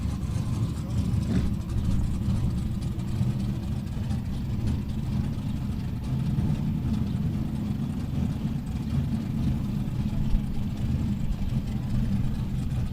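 A twin-turbo big block Camaro drag car at a dragstrip, its engine giving a continuous low, rumbling idle that stays steady and loud throughout, with a voice talking over it.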